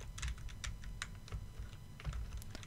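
Keys clack on a computer keyboard as a shortcut is pressed, a quick uneven run of soft, close clicks over quiet room tone.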